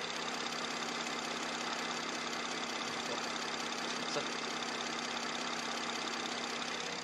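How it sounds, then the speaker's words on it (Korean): Steady idle of a 2016 BMW 740Li long-wheelbase all-wheel-drive sedan's inline-six gasoline engine, a smooth, even, quiet hum held at constant level throughout with no revving and no voices. "바로 엔진 소리 한번 들려드릴게요."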